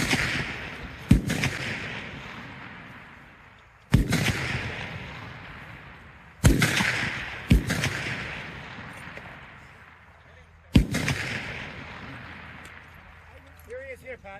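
Sharp rifle shots crack at an outdoor F-Class shooting match, five loud reports spaced a few seconds apart, each trailing into a long rolling echo, with faint voices in the background.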